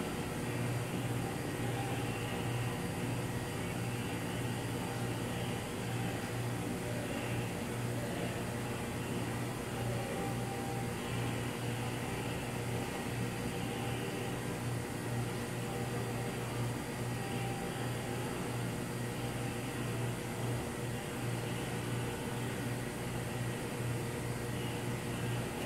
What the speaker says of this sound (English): And now it switches to the last dry cycle as well.